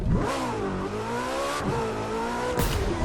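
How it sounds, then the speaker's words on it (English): A Porsche 918 in The Crew 2 racing game revs and accelerates hard, its engine note climbing through several gear changes with a brief tire squeal near the end, loud and close without any talk. "let's go ahead and test drive it. All right, so here we have the Porsche 918"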